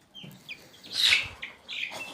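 High, sharp chirps and peeps from young poultry chicks squabbling in a coop, a few brief calls scattered across a quiet background with one louder squawk in the middle.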